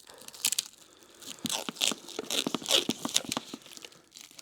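A parcel won in a raffle of RC car goods is torn and crinkled open up close, with repeated sharp crunching and ripping bursts of packaging in quick irregular succession, no voices.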